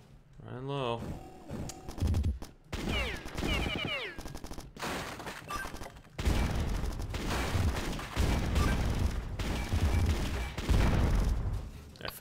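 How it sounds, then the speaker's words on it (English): Gunfire from a weapon in the Bad Bots shooter game, several sharp shots in bursts mixed with mechanical clanks and other game effects, fairly loud and busy, with someone talking in between. "Fired like five shots"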